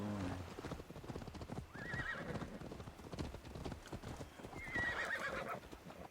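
Horses gallop with rapid clip-clop hoofbeats in the video game Assassin's Creed Valhalla, and two whinnies ring out, one early and one later, over a steady rumbling bed of movement.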